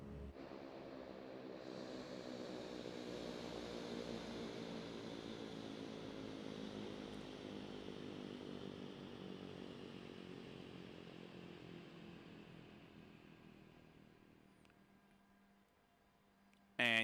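A simulated Beechcraft Duke Turbine's PT6 turboprop engine shutting down in Microsoft Flight Simulator: a loud droning whine and propeller buzz slowly winding down and fading over about fifteen seconds, ending with a sharp click.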